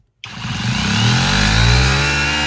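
An ALDI Ferrex 20V hammer drill set to hammer-only mode, impacting without rotation, starts abruptly and runs as a steady, loud, close mechanical buzz with a rapid pulsing rattle.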